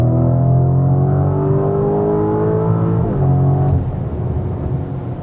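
Lamborghini Urus SE, an 800 hp gas SUV, revving hard in Sport mode with loud rising engine tones, a gear shift near three seconds dropping the pitch, then steady high revs fading slightly.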